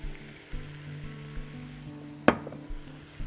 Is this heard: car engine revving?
no